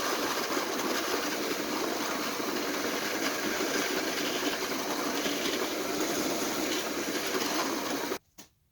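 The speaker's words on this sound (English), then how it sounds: "We have a 1/2 inch Forstner bit going into oak. I'm turning at 1800 RPM," A drill spinning a 1/2 inch Forstner bit at 1800 RPM boring into oak, a continuous loud broadband whir and grind held steadily for about eight seconds before cutting off abruptly.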